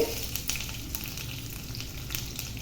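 Spices crackling in hot oil with dried red chillies, a steady close sizzle with small irregular pops and spits throughout.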